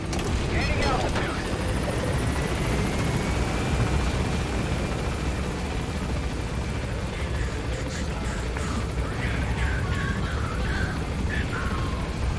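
A helicopter in Metal Gear Solid V climbs with a loud, steady rotor and engine roar close by, a high whine rising in pitch, and game effects clattering near the end.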